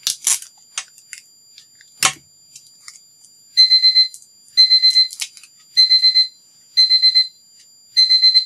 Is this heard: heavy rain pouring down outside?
no